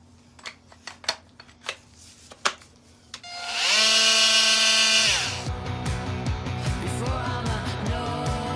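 A power tool cuts off a fiberglass lip inside a Ford Travelcraft camper. A few sharp taps come first, then a loud high whine for about two seconds, followed by a rougher grinding run of cutting.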